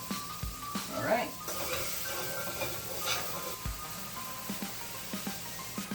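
Chopped onions and garlic sizzle steadily in a hot frying pan, a continuous hiss with occasional stirring clatter and scrapes of a utensil against the pan.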